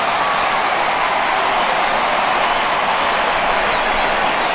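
A home crowd giving a steady ovation in the baseball video game MLB The Show 18, a dense, even roar of applause and cheering that holds loud throughout, with no commentary over it.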